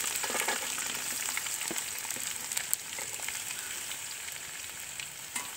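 Chopped shallots fry in a pan for a beef dish, giving a bright, even, close sizzle with small crackles and pops throughout and no voices.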